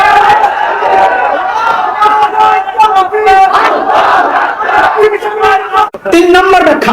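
A large outdoor crowd at a Bangladeshi religious sermon gathering roars in unison, loud, massed voices shouting together in repeated swells, with a brief dip near the end before the shouting resumes.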